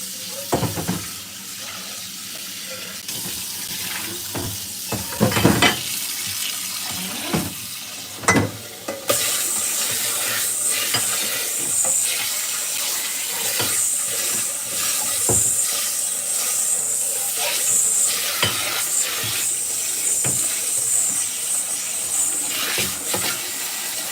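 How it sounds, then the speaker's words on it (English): A cooking utensil is washed under a running kitchen tap: steady hiss of water, interrupted by a few sharp clatters, then constant, fairly loud flowing water from midway on, with no talking. "And I'm gonna wash this so we can reuse it."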